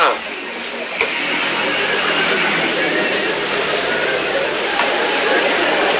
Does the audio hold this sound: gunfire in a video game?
no